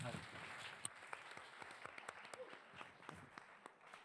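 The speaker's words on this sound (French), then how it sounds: "On peut l'applaudir." Applause from an audience at a French youth entrepreneurship competition final, steady dense clapping that carries on for several seconds and thins slightly toward the end, heard from a distance and fairly quiet.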